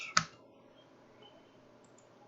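A single sharp key press on a computer keyboard, the Enter key struck once near the start, close and crisp, followed by a quiet room hush with no talk.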